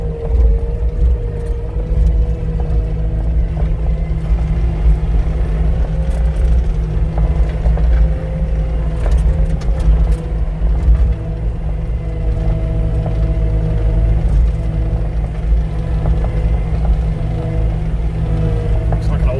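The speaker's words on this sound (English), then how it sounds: "it's an old crawler loader of some kind." An old crawler loader's engine gives a steady, low, heavy rumble that drones on throughout, with a voice talking over it now and then.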